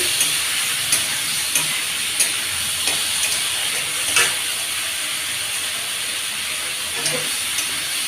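Bay leaf and chopped onion sizzle in hot oil in a home kitchen pan, a steady loud hiss with faint scraping taps as the mixture is stirred.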